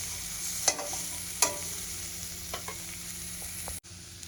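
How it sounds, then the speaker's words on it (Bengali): Cubed potatoes and spices sizzle steadily in a pan over a low-to-medium gas flame while being stirred for a Bengali katla fish curry, with occasional spoon scrapes and clinks against the pan, close and continuous, with no speech. "গ্যাসের ফ্লেমটা আমি লো টু মিডিয়াম করে দেব, ভালো করে একটু কষিয়ে নেব।"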